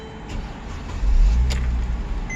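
A 2012 Mercedes GLK 450 engine cranks and starts after a new key is programmed, a quiet moment followed by a close, deep rumble that settles into a steady idle.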